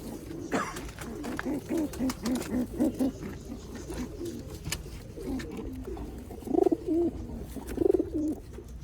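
Rare pigeons of a Mian Nazir bloodline coo on a well-known rooftop in Sialkot, making rhythmic repeated low coos that grow louder and closer toward the end over a soft background hum, with no talk.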